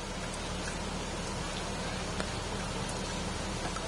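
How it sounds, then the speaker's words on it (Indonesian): Steady rain falling outdoors around football supporters gathering before an Indonesia versus Philippines World Cup qualifier, a dense, even hiss with scattered drop ticks and no voices. "Masih hujan terus lagi kawan."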